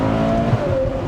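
A Ferrari 812 GTS V12 revs loud and close after paddle downshifts, a sustained rising engine howl with rich harmonics through the whole short stretch.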